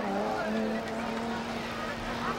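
A six-cylinder 1972 Datsun race car at Saugus Speedway passes with a steady droning engine note, loud and sustained against a noisy track background with crowd murmur and voices.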